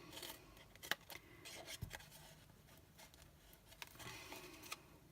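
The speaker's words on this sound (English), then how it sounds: "I'm just going to take my snips and I'm going to snip straight up and tab in." Paper snips cutting straight tabs into cardstock for a treat box, a series of quiet, crisp snipping and rubbing sounds close up, with no voices.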